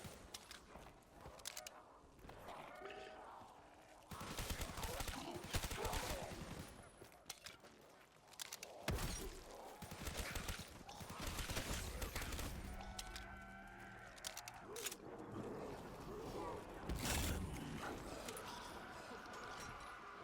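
Repeated gunfire from a weapon in the Call of Duty zombies map Nacht der Untoten, loud bursts of shots with clattering game effects over a dense, busy mix of sounds throughout.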